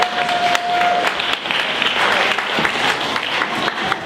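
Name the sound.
audience applause at a panel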